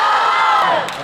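A convention panel audience at San Diego Comic-Con cheering and whooping loudly in a warm-up, a dense crowd roar that holds steady and then begins to fade.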